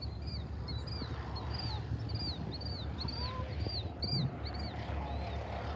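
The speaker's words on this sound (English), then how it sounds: "oh, ducks coming in for landing. There's some mallards." Mallard ducks call with repeated quacks and honks as they come in to land at the Palo Alto Baylands marsh, faint and distant amid steady wind and other birdsong.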